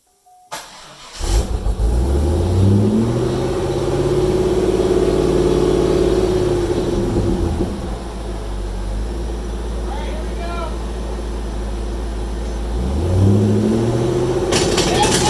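A C5 Corvette engine idles loud and close after a transmission install, then is shifted into drive, with a low steady rumble and rising and falling tones as the drivetrain engages.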